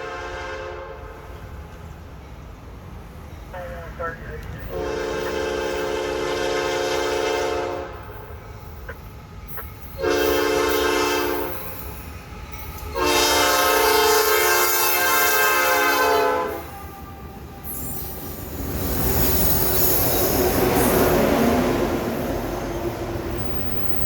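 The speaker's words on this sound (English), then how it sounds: "NS-24X would be high-priority intermodal train NS-28R bound for Rutherford, Pennsylvania." High-priority Norfolk Southern intermodal freight NS-28R passing near Spartanburg, South Carolina, with four locomotives on the head end: a loud, rising rumble of engines and railcars, marked by three long blasts of the train horn and no talk.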